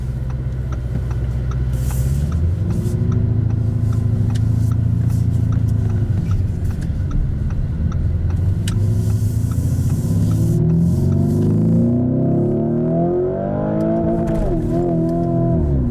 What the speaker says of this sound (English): This is a 4-liter V8 twin turbo.